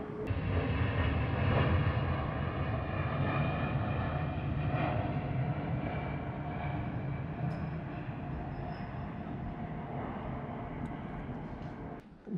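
A plane passes overhead near a river, a broad, steady drone that stays loud and even for the whole stretch before easing off at the very end.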